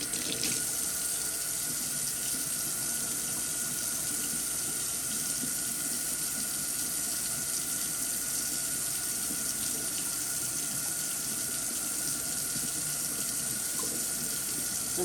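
Water running steadily from a sink tap, a continuous loud hiss and splash with no pauses, close by and alone for the whole stretch.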